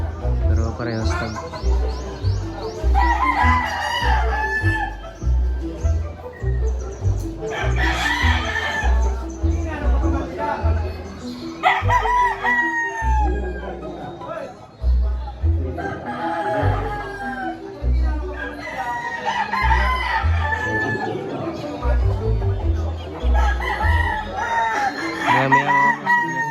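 Gamecock roosters at a cockfighting derby crow again and again, loud and close, amid clucking and a low crowd bustle while someone talks throughout.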